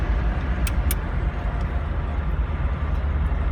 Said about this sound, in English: Love the sound of that big rumbling V8